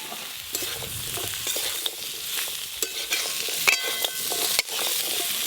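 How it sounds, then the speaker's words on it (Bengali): Chopped ash gourd stirred and fried with spices in a hot pan, a loud continuous sizzle broken by repeated scraping strokes of the spatula, close and alone without speech. "এইভাবে নাড়তে নাড়তে চাল কুমড়ো থেকে জল বেরিয়ে যাবে"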